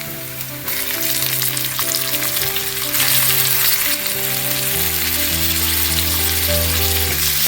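Tomatoes fry in an oiled pan for egg bhurji, giving a loud continuous sizzle that swells after a brief quieter start, with occasional stirring scrapes and no speech.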